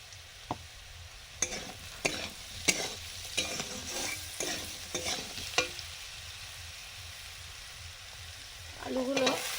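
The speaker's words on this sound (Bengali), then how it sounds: "আলুগুলো অর্ধেকের বেশি ভাজা হয়ে গেছে" Potatoes and knol-khol pieces fry in an oiled pan with salt while a spatula stirs and scrapes through them in a run of sharp, irregular strokes, a steady sizzle underneath and a brief clatter near the end; nobody speaks.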